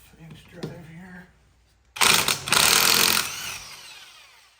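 A 1/2-inch drive impact wrench works the lug nuts off an old buggy wheel, one loud rattling burst of about a second and a half that then trails off. Someone speaks briefly just before it.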